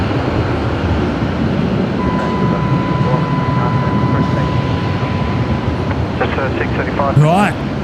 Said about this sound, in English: Right, Qatari now on short final. Runway 19 left.